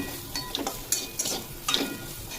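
Beans, carrots and beetroot are stirred dry in a wok, with no water added, giving a few soft scraping strokes and light sizzling crackles at close range, no voices.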